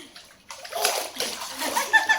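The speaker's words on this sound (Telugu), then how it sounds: "Wow what a swimming it is." Water splashes as someone swims in a pool at a lake-view resort, brief close sloshing and splattering that builds over two seconds while voices, including a child's, are heard nearby.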